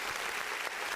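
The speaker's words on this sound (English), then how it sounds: "So, round of applause for Volpe." A brief burst of dense clapping, steady and fairly close, heard alone for about a second.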